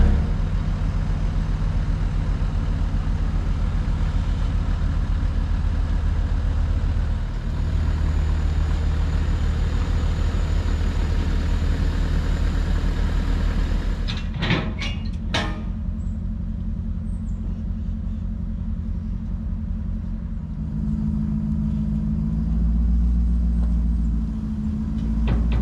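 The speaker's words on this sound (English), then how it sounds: "we'll let the truck warm up a little bit" A truck engine idles while warming up, a steady low rumble that runs for the whole stretch, with a few sharp clanks midway and a slight shift in tone toward the end.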